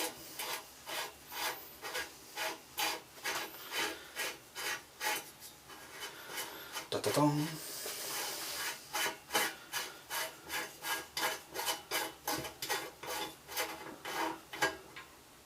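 A wrench turns a reverse-threaded part on a fixed-gear bicycle, giving a steady run of rhythmic ratcheting clicks and grinding rasps, close and quiet, with a brief clunk midway.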